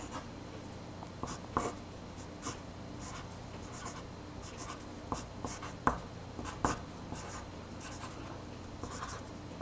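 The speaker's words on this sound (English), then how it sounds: "I'm just going to write a few words." A pencil writes words on paper in short scratchy strokes, with small clicks and taps between them over a quiet background.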